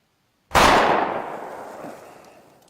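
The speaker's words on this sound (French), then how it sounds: "C'était quoi, ces coups de feu?" A single sharp gunshot cracks out, followed by a long echoing tail that fades over two seconds.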